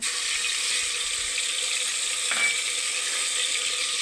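Ginger garlic masala and spices fry in a pan over a low flame for a capsicum and green pea curry, giving a steady, close hiss that runs without a break.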